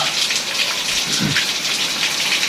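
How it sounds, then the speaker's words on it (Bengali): Heavy rain pours down in a village among trees, a dense and continuous hiss of drops striking surfaces up close with no voices. "দেখতেছেন এই যে বৃষ্টি পড়তেছে"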